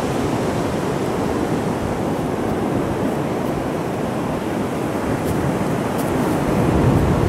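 Sea waves washing onto a sunny sandy beach, a continuous broad roar of surf with wind noise, steady and fairly loud throughout, no voices heard.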